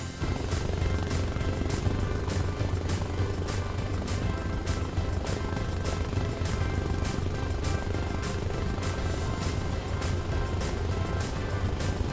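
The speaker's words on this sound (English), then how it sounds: "watch the Little Bird glide over the terrain" A Little Bird helicopter flies in the video game Arma Reforger, a steady loud rotor thump with a constant engine whine, continuous and unbroken.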